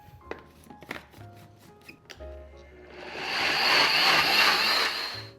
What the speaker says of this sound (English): So let's get blending.